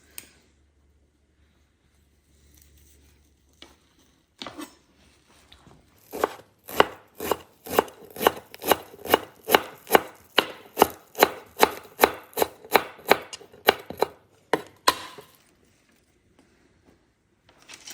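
A knife chops through a handful of fresh dill on a board, a fast even run of about twenty crisp, close taps lasting several seconds after a few scattered knocks, then stopping abruptly.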